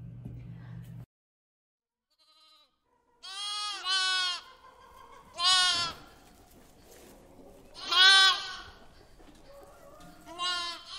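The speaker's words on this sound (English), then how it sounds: "do you think we're missing that you would usually see on a farm? A sheep." Sheep bleating on a farm, several separate wavering bleats spaced a couple of seconds apart, fairly close and clear, with no talk.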